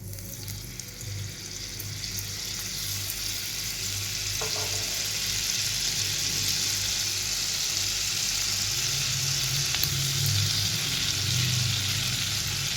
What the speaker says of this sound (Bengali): এই বাটারটা আমি এই তেলের মধ্যে দিয়ে দেবো